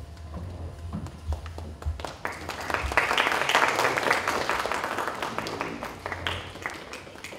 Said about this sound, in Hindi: तालियों से अपने सभी माननीय अतिथियों का स्वागत करते हैं।